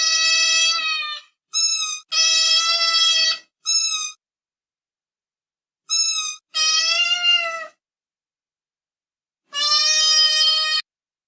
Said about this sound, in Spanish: vamos a escuchar qué nos dicen los gatos con respecto al idioma